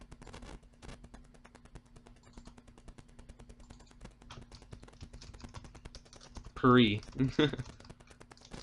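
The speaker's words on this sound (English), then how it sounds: "I'm bad at typing, guys." Rapid clicking of computer keys in steady, fairly quiet bursts runs through most of the stretch, with a brief spoken exclamation near the end.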